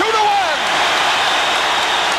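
Hockey arena crowd roaring after a Bruins rookie's goal in a 1988 broadcast, a dense, sustained wall of cheering that stays loud throughout.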